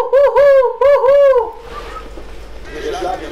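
Two loud, drawn-out owl hoots from the LEGO The Hobbit video game ring out back to back, then fade into a quieter, hissy game ambience.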